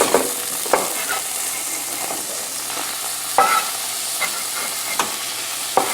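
Onions, celery and garlic sweating in butter over a moderate flame for a fish stew, a soft constant sizzle with periodic sharp scrapes and taps of a utensil stirring the pan.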